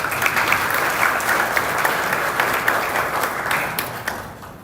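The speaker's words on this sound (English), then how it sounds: "Please give her a round of applause." Audience applause in a conference hall at a ministerial event in Nairobi, a steady, dense wash of many hands clapping that holds for several seconds before tapering near the end.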